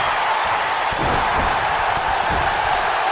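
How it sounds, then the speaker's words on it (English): A WWE 2K19 wrestling video game crowd sends up a dense, steady roar of cheering, loud and continuous, with a few dull thuds of in-ring action underneath. "This crowd getting into it now."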